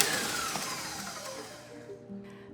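Electric mixer beating egg whites for a pavlova, a faint, continuous whirring hum with no speech.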